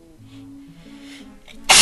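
A single sharp, loud sneeze bursts out at the end after a stretch of quiet murmuring and low voiced sounds, during a Paper Mario game session.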